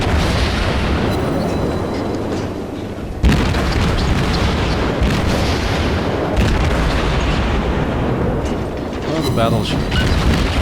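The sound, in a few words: incoming shell fire and explosions in World of Warships video game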